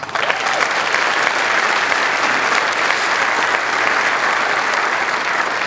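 A large audience at a city inaugural ceremony applauds loudly, a dense, continuous wash of clapping held at full strength throughout with no speech over it.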